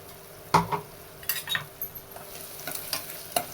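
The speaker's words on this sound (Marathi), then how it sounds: "असं फिरवून घ्यायचं चांगलं परतून घ्या" Fresh coconut masala paste is sautéed in a pan for brinjal rice, with a soft sizzle under scattered scrapes and stirring knocks of a spoon, close up and with no voices.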